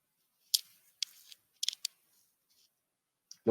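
Several sharp mouse clicks in a web-based survey testing tool, spaced irregularly: a click, a short rattle, a quick double click, then two faint taps and a final thump, close and crisp against near silence.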